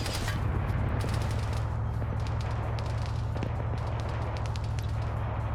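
Rapid bursts of gunfire in a combat video game over a constant low engine rumble, with sharp shots following one another continuously.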